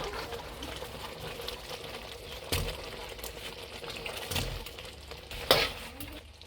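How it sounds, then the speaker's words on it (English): Manchurian balls are stirred into thick gravy in a pan with the flame off, making soft sticky scraping and stirring sounds with a few louder knocks of the spoon. "Mix it very well so all the gravy can go on top of the Manchurian balls."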